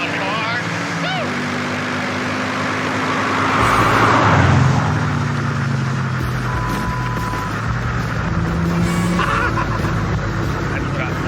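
A junkyard Porsche 911 races through a cone course with its engine droning loudly and rising in pitch as it accelerates, joined by other vehicle noise. Excited voices talk and cheer over it throughout.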